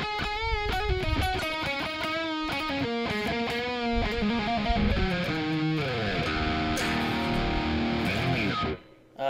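A thin, buzzy distorted electric guitar, bridge pickup coil-tapped, plays a steady run of single notes and chords, then rings out and cuts to near silence at the end.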